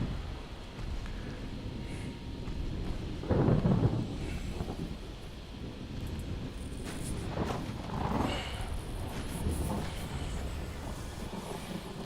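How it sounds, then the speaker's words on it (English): A thunderstorm rolls in at sea during a naval battle in Ultimate Admiral Dreadnoughts, with a loud thunder crash early on and further rumbles over a steady wash of rain and wind. "That storm came on pretty quick."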